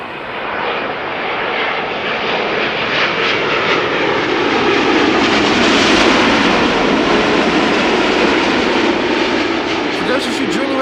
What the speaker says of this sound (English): This is KLM Flight 668 arriving from Austin, Texas. 787-9 Dreamliner